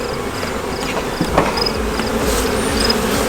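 A continuous, loud buzz rises from agitated honey bees at an opened hive being worked without smoke. Individual bees whine past close by over the thick hum of the swarm.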